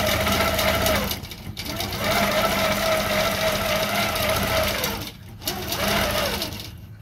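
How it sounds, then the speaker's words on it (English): Long arm quilting machine stitching out an edge-to-edge design: a fast, steady mechanical whir and rattle that briefly stops twice before resuming, close and fairly loud. "now I am told to turn the stitching on my long arm, and then my machine's gonna move"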